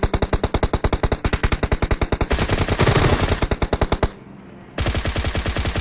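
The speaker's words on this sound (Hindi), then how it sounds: "तभी बंदा ग्रोजर से फायर करता है" Rapid, loud bursts of Groza rifle fire from the Free Fire mobile game, a steady automatic stream of shots that cuts out for a moment and then resumes.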